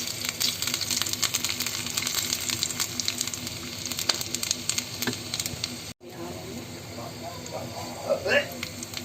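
Cumin and garlic crackle in hot oil for a tempering, a steady dense sizzle throughout that breaks off for a moment near the end and then resumes with a few louder pops.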